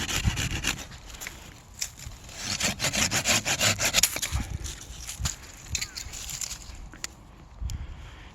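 A hand saw cuts through unneeded plum tree branches during pruning, giving a rhythmic series of close, rasping strokes with brief pauses between bursts.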